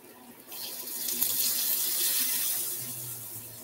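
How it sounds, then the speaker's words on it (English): Water pours into a pan of meatless ground for simmering, a close, steady hissing splash that starts suddenly and runs for a few seconds before easing, with no talk. "I just added a little water so this can simmer properly"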